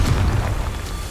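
A Confringo fire spell blasts in the Hogwarts Legacy video game, a loud, booming explosion with a dense low rumble that stays heavy and sustained through the moment, with no talk over it.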